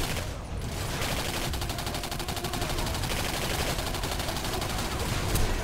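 Sustained video game gunfire from a firefight with army soldiers, dense rapid bursts of automatic weapons overlapping into a continuous loud clatter, with no talking over it.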